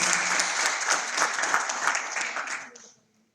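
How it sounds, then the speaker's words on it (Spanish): An audience at an interuniversity debate tournament applauds the San Marcos university team with a brisk burst of clapping that runs for nearly three seconds and then quickly dies away into quiet. "Fuerte los aplausos, por favor, para ellos."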